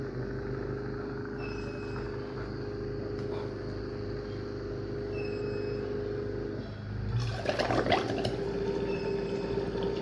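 A DC solar water pump hums steadily while running, its drone holding level for several seconds before a louder gurgling, sucking rush starts near the end.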